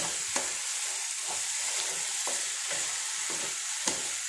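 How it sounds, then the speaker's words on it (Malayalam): Curry for a midday meal bubbling and sizzling hard in a pot on the stove, a continuous close hiss broken by a few soft clicks of stirring, with no voices. "നല്ല പോലെ തിളച്ച് ആവിയൊക്കെ വന്നു"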